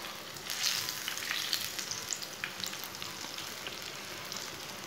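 Eggplant slices frying in oil in a pan, a steady close sizzle with scattered pops and crackles throughout, no talking.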